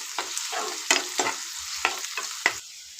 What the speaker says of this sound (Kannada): ಈ ಥರ ಎಣ್ಣೆಲೇ ನೀಟಾಗಿ ಫ್ರೈ ಆಗಬೇಕು ಈರುಳ್ಳಿ